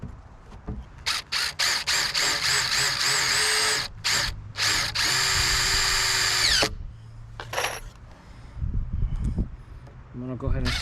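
Power drill driving screws into a wooden raised garden bed, several loud whirring bursts with short gaps that end in a long steady run, followed by someone talking over light handling noise.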